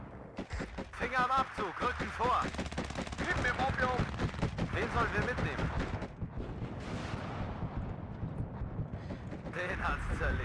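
Grenade launcher fire in the Warno wargame, with repeated bursts of explosive battle noise rumbling through a dense mix of gunfire, under a voice talking almost the whole time.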